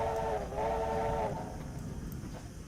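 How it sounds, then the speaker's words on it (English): An S160 steam locomotive whistle on the Dartmouth Steam Railway in Train Simulator 2020, a steady multi-tone whistle blast held for over a second with a brief dip, then fading into rolling train rumble. "we'll just blow the whistle one more time"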